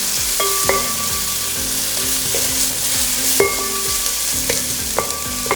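Chopped onion sizzles steadily in hot oil in a pan while making chicken biryani, with a constant frying hiss and repeated scraping strokes of a spoon stirring close by.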